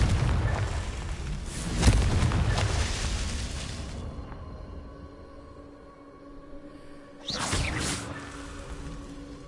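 Booming blasts from the Confringo spell in Hogwarts Legacy, a loud rumbling explosion that decays over several seconds, followed by a second sharp blast near the end.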